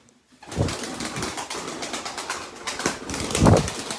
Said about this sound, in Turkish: Burada 5 tane kuş var.